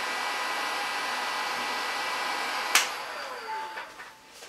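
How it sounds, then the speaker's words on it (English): A heat gun blows a steady broadband hiss while warming epoxy for homemade fishing lure eyes, with a sharp click near the end as the airflow tapers off. "So I just use a heat gun to try to heat up it a little bit"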